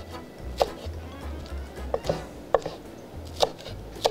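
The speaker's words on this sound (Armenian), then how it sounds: "կտրատում ենք կանաչ սոխը" Green onions chopped with a knife on a cutting board: a handful of sharp, separate chops spaced irregularly, close and moderately loud over a low background hum, with no talking.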